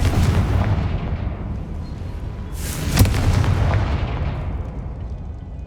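The Confringo explosion spell in the video game Hogwarts Legacy sounds as a loud, rumbling blast. It is a sharp burst near the middle of a dense, continuous booming roar, with no one talking.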